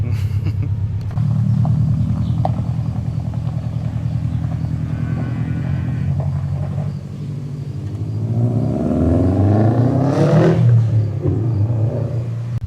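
A 2018 Subaru STI with a newly fitted downpipe exhaust idles with a deep rumble, then revs hard in a loud, rising surge near the end, heard up close and alone.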